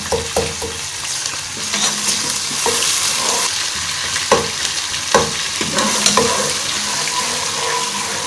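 Ginger-garlic paste sizzles and fries in a pan for an Arvi Palak sabzi, with a steady hiss broken by repeated scraping stirs and clinks of the spoon, close and fairly loud with no talking.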